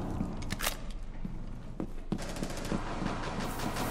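Rapid gunfire crackles in the tactical shooter Rainbow Six Siege, a dense burst of shots and clattering impacts heard loudly against continuous game noise.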